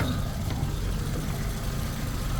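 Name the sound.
car engine idling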